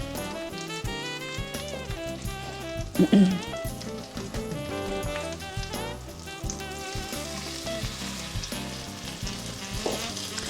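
Slices of wheat-bread French toast dipped in batter and laid into melted butter in a pan, a soft continuous sizzle heard faintly under background music.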